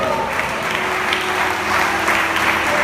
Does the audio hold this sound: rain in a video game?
no